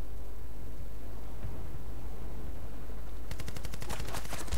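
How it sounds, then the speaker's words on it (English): Automatic weapon fire in the video game Battlefield Bad Company 2, a loud rapid burst of shots beginning partway through over a steady noisy game background. "So I'm starting to shoot here with a better gun"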